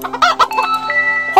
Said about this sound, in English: Chickens are kind of creepy.